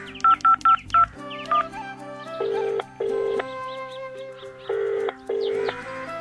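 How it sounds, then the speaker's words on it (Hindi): Keypad tones ring as a phone number is dialed, several quick beeps followed by longer spaced tones, clear and close with nobody talking. "मैं प्रीता को फोन लगाती हूँ अंदर का हाल जानने के लिए।"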